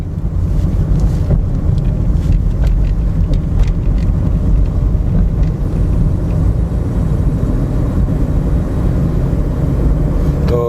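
A car cruises along a road through a city development at roughly 60 to 70 km/h, a steady loud low rumble of tyres and engine with wind noise and no talking.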